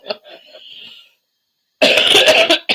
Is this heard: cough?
yes